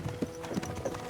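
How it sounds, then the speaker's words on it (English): Horses' hooves clip-clop at a slow walking pace in Kingdom Come Deliverance II, a few soft, fairly faint hoof strikes in quick succession. "don't you think maybe we could make the horses go a little faster?"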